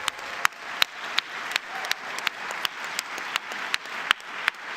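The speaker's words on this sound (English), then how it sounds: "Please give a round of applause to Alexander." Conference audience giving a round of applause at an opening ceremony, a steady wash of many clapping hands with sharper individual claps standing out, continuing evenly throughout.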